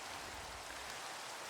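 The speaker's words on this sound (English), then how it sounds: "while it's raining and we don't have much going on" Steady, even hiss of rainfall in the game Minecraft, a dense continuous wash of drops with no other sounds.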